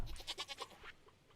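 A single short, wavering goat bleat from the video game Stardew Valley Expanded, close and fairly clear, trailing off quickly.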